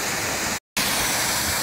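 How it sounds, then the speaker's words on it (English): A waterfall at an old stone mill built in 1788 pours in a steady, loud, broadband rush, with one brief moment of silence midway before the roar resumes. "And the infamous waterfall."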